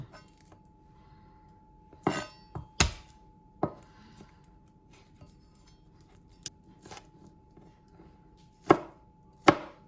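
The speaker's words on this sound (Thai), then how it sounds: "ต่อมานะคะก็ทุบกระเทียม" Garlic is crushed with sharp, irregular knocks and thuds on a kitchen board, a handful of spaced hits over quiet background hum, with no talking.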